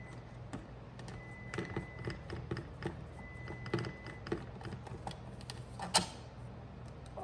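Screws come out of the trunk lock bracket on a 2001–2005 Acura Integra. The sound is faint, close and irregular: ticking and clicking over a low background hum.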